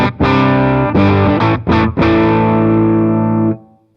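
A clean-tone electric guitar through a BIAS MINI amp in Glassy mode rings out in a few loud strummed chords, with short choppy hits in the middle and a long sustained final chord that fades out, with no talk over it.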